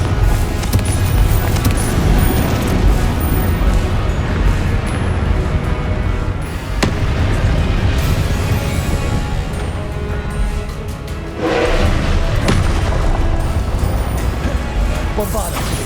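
Confringo fire spells exploding in Hogwarts Legacy combat, a dense, loud stretch of booms and crashes mixed with other spell sounds and clashing, continuous throughout with no pause.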